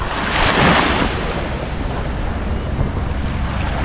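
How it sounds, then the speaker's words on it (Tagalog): Ocean waves wash up on a beach shore in a continuous loud rushing hiss, with wind buffeting the microphone and a slight surge near the start. "Umabot na kasi yung alon dito."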